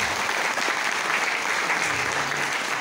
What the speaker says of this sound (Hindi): चाहेंगे एक बार जोरदार ताली उनके लिए